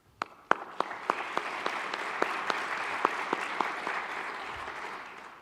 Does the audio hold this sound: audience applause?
yes